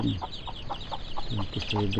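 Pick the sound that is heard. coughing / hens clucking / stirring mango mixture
hens clucking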